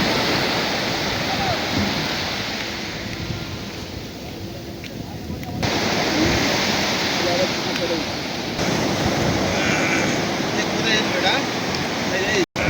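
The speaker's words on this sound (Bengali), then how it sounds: "সুন্দর ঢেউ আসছে, দেখুন" Waves wash steadily onto the Sagar Island river shore near a fish-unloading trawler, a continuous broad surging roar that rises and falls slightly, close and fairly loud.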